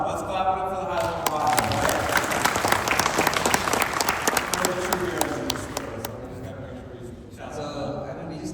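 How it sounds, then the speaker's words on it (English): An audience applauds for the HighLevel class with dense, sustained clapping that fades near the end. Some voices are heard beneath it. "let's clap it up for the high level"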